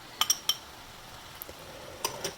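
A spatula clinks against a wok while tofu is stirred into a no-oil garlic ginger stir fry with zucchini. A few sharp metallic taps come at the start and again near the end, over a faint background.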